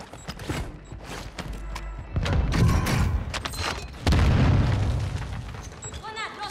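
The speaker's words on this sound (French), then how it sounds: "Grenade lancée." Grenade blasts in the shooter game Call of Duty: Warzone, several loud booming explosions with gunfire and scattered clatter, while players talk over the action.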